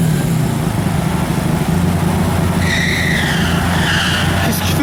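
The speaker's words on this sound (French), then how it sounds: "Il y a un scooter qui fait un burn." A scooter does a burnout on a busy street in Juan-les-Pins, its tyre squealing and skidding over a constant engine drone, with traffic noise and voices around it.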